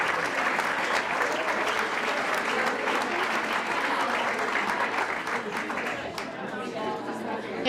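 A room of attendees at a Women In Business Expo applauds steadily, a thick wash of many hands clapping at once with chatter mixed in, fading slightly toward the end.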